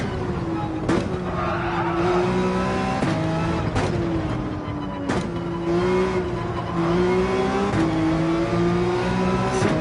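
A Ford Mustang V8 race car on the Road Atlanta track roars continuously under load, its deep engine note rising and falling with gear changes and throttle lifts, loud and close throughout.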